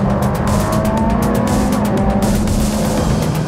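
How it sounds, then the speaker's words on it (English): An exotic sports car launches hard and accelerates on a racetrack, a loud, steady engine roar held close and continuous throughout with no break. "That is a launch!"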